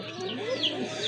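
A pair of Kashmiri racer pigeons makes soft cooing and throaty warbling calls close by over a faint background hum, a short lively stretch of bird calls with no speech.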